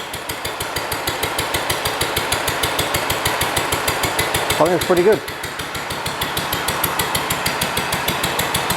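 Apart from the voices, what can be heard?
Wolseley WD1 engine running with poor exhaust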